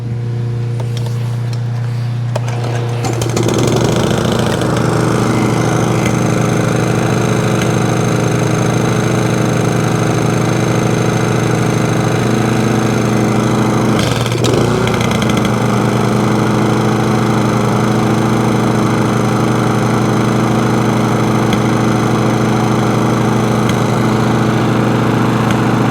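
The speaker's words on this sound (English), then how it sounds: "Let's try and start it then." Sovereign lawnmower engine that had trouble starting catches after a quiet moment and settles into a loud, steady close-up running drone, with a brief wobble in pitch midway, and no talking.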